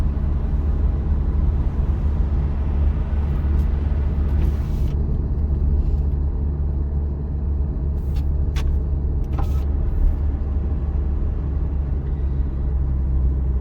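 A car cruising steadily in third gear at roughly 35–40 km/h during a driving lesson, giving a constant low engine and road rumble with a few faint brief clicks, no talking.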